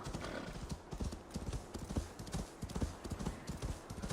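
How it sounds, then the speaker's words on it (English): In a video game, a horse's hooves clip-clop in a quick, even rhythm, close and clear, with a whinny rising in among the steps. "This is quite the hardy horse right here."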